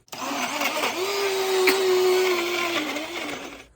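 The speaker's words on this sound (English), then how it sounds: "Okay, where's that lid? Blend it. Okay, blend it." A blender whirs close and loud through an ice cream milkshake, its motor rising to a steady high whine that dips and recovers as the contents churn, then stops abruptly.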